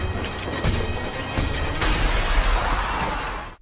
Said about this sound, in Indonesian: Namun hal tersebut tidak berhasil karena pintu kacanya tiba-tiba pecah